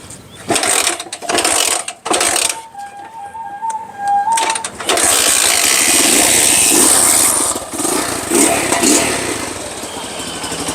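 A Honda motorcycle engine runs close by, sputtering in bursts, then settling into a steady mechanical rattle with rises in revs and ticking, ratchet-like sounds.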